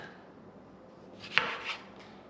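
A single knife slice through a fat tomato on a board, one sharp close cut followed by a softer scrape, with a quiet room and no talking.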